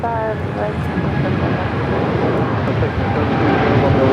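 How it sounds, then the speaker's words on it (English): A United Airlines Boeing 787-9 Dreamliner taking off at Los Angeles airport, a steady broad jet engine roar holding throughout at moderate distance, with a brief spoken word over it. "That is United Airlines 1855 taking off to Newark"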